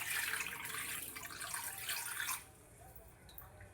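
Water pours into a bowl for cleaning fish in a loud, splashing stream for about two seconds, then cuts off, leaving faint drips and quiet room sound.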